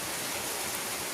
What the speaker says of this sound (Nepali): पानी पर्दैछ हेर्नुस् न।